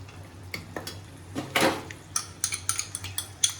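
Sesame seeds stirred into pork in a pan produce sharp, close metallic scrapes and clinks of a utensil against the pan, arriving in quick irregular taps over a faint sizzle.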